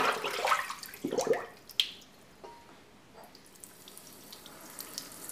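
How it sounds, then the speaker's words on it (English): A faucet runs a gentle stream of lukewarm water into a sink for washing wool, with irregular splashing bursts near the start that settle into a quieter trickle. "Get a gentle stream of water running"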